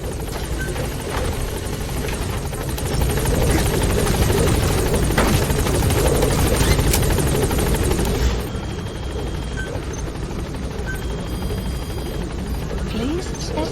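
Pequod's helicopter in Metal Gear Solid V: The Phantom Pain hovers close with a loud, steady rotor thrum and whine, swelling midway and then settling lower. Radio chatter plays over it.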